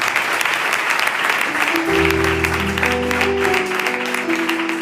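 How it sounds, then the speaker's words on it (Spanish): Sustained congregation applause fills a church service throughout, with steady sustained keyboard or organ tones joining beneath the clapping partway through. "Un aplauso a la palabra de Dios"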